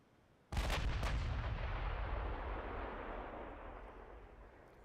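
A warship's big guns fire in a naval battle game, a sudden loud boom followed by a long rumbling roar that slowly fades, with no talk.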